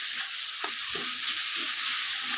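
Tomato fries in a wok over a low gas flame, a close, continuous sizzle with soft stirring scrapes and bumps of a spatula rising through it.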